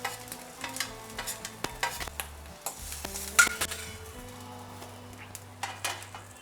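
Ginger, garlic, green chili and coconut roast in oil for Nagpur-style tarri poha, giving a soft sizzle broken by sharp spatula clinks and scrapes against the pan, with a low steady hum underneath.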